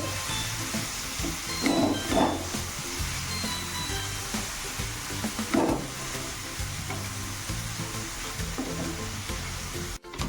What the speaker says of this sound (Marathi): आणि टोमॅटो सुद्धा ऍड करून घेणार आहोत छान परतून घ्यायचंय